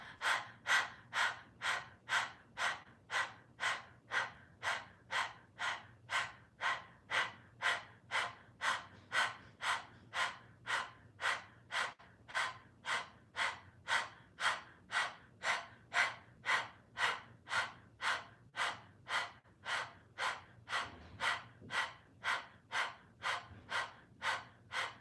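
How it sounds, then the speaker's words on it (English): Rapid, steady panting breath during a Kundalini yoga practice, tongue out like a dog, repeating in a fast even rhythm of short loud puffs for the whole stretch, close and alone with no talk. "stick your tongue out, begin panting like a dog."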